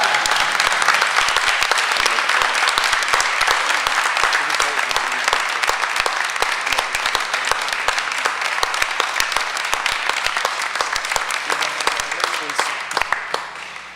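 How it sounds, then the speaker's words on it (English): Sustained applause at a Hoboken Board of Education meeting honoring a high school student, steady dense clapping from a room audience for over ten seconds, tapering slightly at the end. "let's give Kiana a round of applause for obtaining this distinguishable honor."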